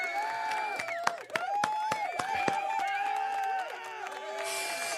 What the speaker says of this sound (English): I just wanted to give a round of applause